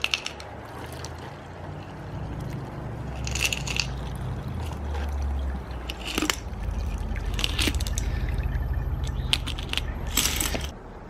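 Steel bearings stirred in a bottle of cleaning solvent, with scattered clinks and rattles over a low sloshing rumble, fairly quiet and close.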